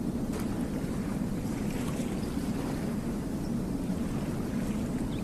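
A steady, even wash of water and wind carries on at a quiet, deserted riverbank, with no voices or distinct events breaking the continuous rushing ambience.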